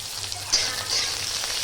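Onions dropped into hot oil for poha give a soft, steady hiss and sizzle, quiet and close, with a slight spike as they hit the pan.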